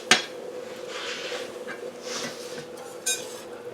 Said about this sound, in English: now we're going to stir this